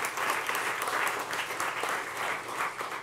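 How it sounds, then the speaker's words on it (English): An audience gives a round of applause for a speaker at a talk, producing a steady, even wash of many hands clapping at moderate volume for about three seconds. "I'll give a big round of applause to Hanu"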